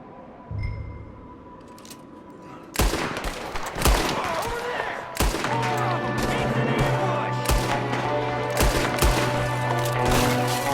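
Gunfire in the Red Dead Redemption 2 video game: loud, sharp shots crack out irregularly over a sustained game-sound bed, some in quick clusters and others spaced apart, with voices faintly present.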